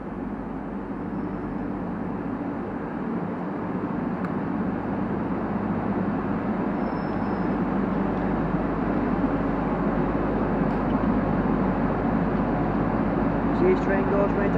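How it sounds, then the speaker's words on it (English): A double Class 185 diesel multiple unit arriving at Warrington Central station, a steady low engine drone and rumble building gradually over about fifteen seconds with faint squeals near the end. "next train arriving in is I think a double 185 going to Lime Street"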